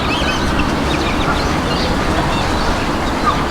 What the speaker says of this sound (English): Red-faced whistling ducks are just,